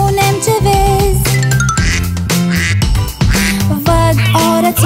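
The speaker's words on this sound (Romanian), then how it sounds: "Văd o rățușcă. Mac, mac, mac." A duck quacks within a bright, busy Romanian children's summer song, the calls blending into continuous music with chiming tones throughout.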